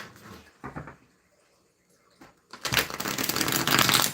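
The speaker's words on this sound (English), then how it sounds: "let's give it one more shuffle and cut it again." Tarot cards are shuffled in two brief bursts, then a longer, louder riffling shuffle fills the end; close by, with no speech.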